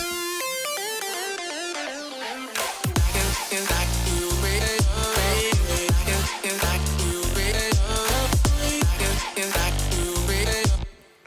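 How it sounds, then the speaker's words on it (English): Second half of an EDM drop built in Logic Pro X: a bright, layered synth melody opens alone, then heavy pumping kicks and sub-bass hits punch in a steady four-on-the-floor rhythm, loud and full until an abrupt stop. "So the second half of the drop sounds like this."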